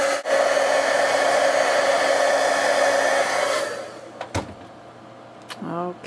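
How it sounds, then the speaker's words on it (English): A heat gun used for crafting a birthday card blows hot air in a loud, steady whoosh for several seconds before shutting off. A thump and brief talk follow. "heat gun on quickly."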